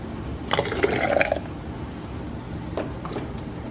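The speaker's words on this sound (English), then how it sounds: "Now I'm going to pour it into the jar." Homemade vegetable soup is poured into a glass canning jar, giving a brief close splashing, gurgling burst followed by faint drips and quiet settling.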